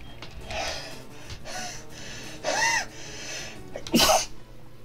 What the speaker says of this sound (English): I'm sorry about that sneeze.